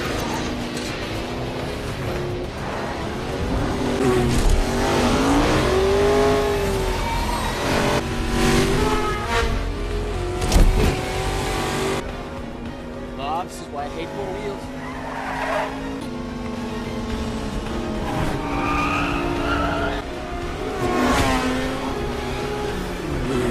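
A car revs hard and speeds away with tire squeal and skidding, loud and close, while engine noise rises and falls over about twenty seconds against a busy background with some voices.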